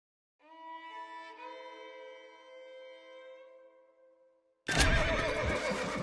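A horse in the video game Red Dead Redemption gives one long, loud whinny that wavers and trails off, followed by a burst of harsh, noisy scuffling.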